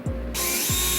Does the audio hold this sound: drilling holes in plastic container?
yes